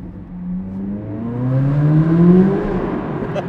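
A Corvette Z06 engine climbs in pitch through a hard launch, its rising harmonics swelling loud and close as the car struggles for traction, then easing off near the end.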